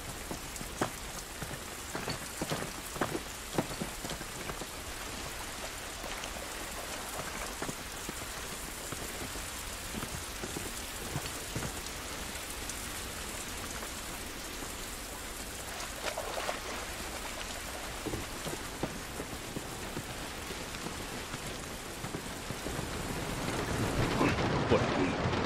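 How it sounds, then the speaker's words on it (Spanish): Steady rain patters throughout a scene in the video game The Last of Us, running on a 2006 PS3, with scattered sharp drop hits and a brief low rumble. The rain swells slightly louder near the end, with no speech. "Esta lluvia no nos va a ayudar."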